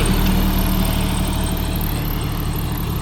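A steady, loud tractor engine drone rumbles continuously with a low idling hum and no pauses or voices.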